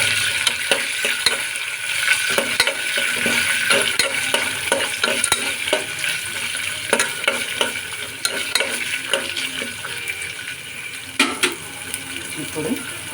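Green peas frying in a pan for vegetable pulao, a loud, close sizzle with constant stirring scrapes and clicks running throughout, no voices over it.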